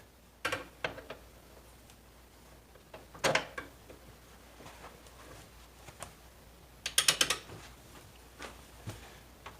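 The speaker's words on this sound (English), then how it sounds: "Let's loosen up this lower shock bolt here." Ratchet loosening the lower shock bolt on a 1988-2000 Honda Goldwing 1500 during rear wheel removal, a few quiet separate bursts of rapid clicking with pauses between, close by and without talk.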